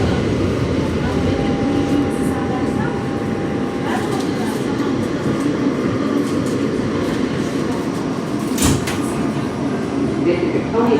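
Coney Island-bound F local subway train in New York: a steady loud rumble and rattle of cars on the rails, with a brief squeal near the end and a voice talking over the noise.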